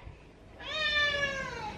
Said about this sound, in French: Vous arrêtez de miauler